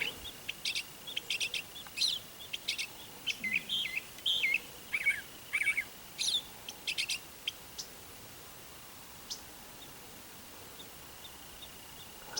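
A bird calls in a run of short, high chirps and trills, fairly close, then falls quiet over a soft, hushed background.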